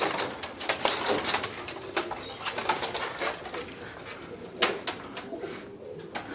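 Pigeons coo repeatedly at close range, soft rounded calls rising and falling over several seconds, with a few brief wing flaps and no talk.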